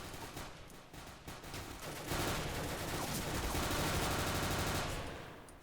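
Rapid automatic gunfire from the 2011 alpha build of Counter-Strike: Global Offensive, dense and continuous bursts of shots filling the whole stretch, loud and close, growing heavier midway with no speech over it.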